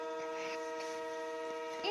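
A loud, sustained whistle with a rich, harmonic tone like a train horn, holding one steady pitch and swelling slightly at the end.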